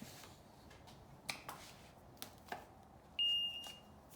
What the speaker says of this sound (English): Turning off my tester.